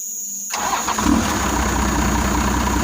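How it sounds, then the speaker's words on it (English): Silence broken by a car engine cranking and catching, then settling into a steady idle that continues close by. "All right, Winston, I'm gonna try to hit the key here."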